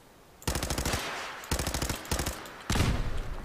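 Automatic gunfire in the game Fallout 4 rattles in three rapid bursts separated by brief gaps, loud and close with no talk over it.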